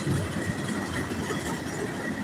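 A freight train hauling empty containers for road-building material rolls along railroad tracks, a steady low rumble with a faint rattle of cars, moderately distant, with no talk.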